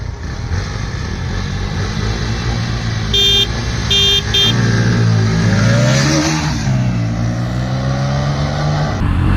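Bajaj Pulsar NS160 and Pulsar N160 motorcycles, 2023 models, race side by side, their engines revving loudly and continuously up close under wind noise, with brief horn-like tones partway through.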